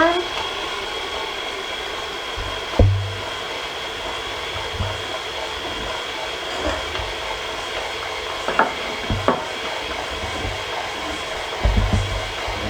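A 4.5 to 5 quart stand mixer strains while kneading Easter bread dough: a steady whirring motor drone runs throughout, with low periodic thumps as the dough slaps around the bowl. No one speaks.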